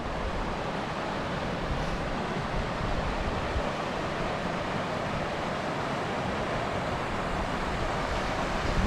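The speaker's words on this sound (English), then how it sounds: "This is the Little Colorado River." The Little Colorado River flows into the Colorado, a steady, even rush of moving water, with no voices heard.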